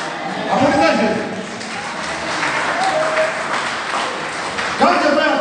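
Church congregation applauding during a French-language service, a broad wash of clapping that runs throughout at steady loudness, with a voice speaking over it.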